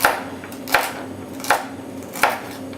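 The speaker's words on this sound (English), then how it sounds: "And that's pretty much it for slicing simple vegetables." A knife chops through vegetables such as carrots and celery on a cutting board, four sharp, evenly spaced strokes close by with no voices.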